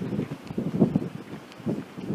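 Strong gusts buffet the microphone beside a railway line in Rosenbach, a low, rumbling wind noise that rises and falls in uneven bursts, fairly close and alone without any voices.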